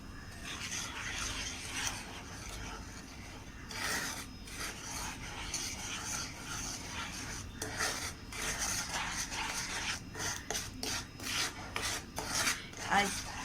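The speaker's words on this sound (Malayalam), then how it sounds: "ഇതിലേക്ക് പൊടിച്ച് വെച്ചിട്ടുള്ള അരിമണി ഇട്ട് നമുക്കൊന്ന് ഇളക്കിയെടുക്കാം" Powdered rice grains being stirred into a pot of payasam made with jaggery, giving a steady close scraping and rasping of a spoon against the pan, with repeated sharper strokes toward the end and no talk.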